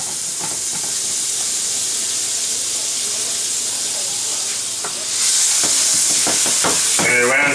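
A tortilla sandwich fries in butter in a hot pan, giving a loud, steady hiss that swells brighter partway through, with light scraping and a spatula tap or two.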